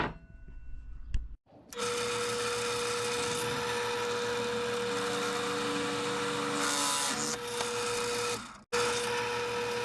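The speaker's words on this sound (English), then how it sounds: "Let's get to drilling some holes." A power drill whines loudly in a sustained burst, drilling holes in scrap metal for a homemade rock polisher, its pitch shifting slightly as it bores through, stopping briefly before starting again.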